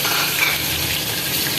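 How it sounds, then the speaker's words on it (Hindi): Minced meat (keema) goes into a pan of onions sautéing with garam masala, giving a loud, steady, close-up sizzle with faint stirring and no speech. "अब साथ हम कीमा डाल रहे हैं"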